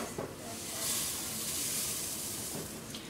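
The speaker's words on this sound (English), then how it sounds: "I'm going to put the 4 cups of Rice Krispies in." Rice Krispies cereal pours into a pot of melted marshmallows, giving a soft, steady rushing hiss that swells and fades over a few seconds, close up and with no talking.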